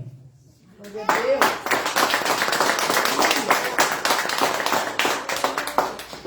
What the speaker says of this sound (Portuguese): louvando ao Senhor com palmas bem alegres.